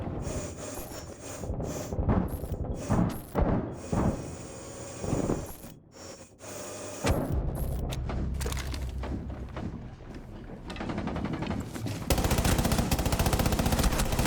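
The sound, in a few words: light machine gun firing in a video game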